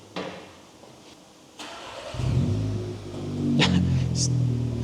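Starter cranks briefly, then a MK4 Seat Leon FR TSI engine with straight-pipe exhaust, resonator and back box deleted, catches and settles into a deep, throaty idle with a small rev toward the end, heard close.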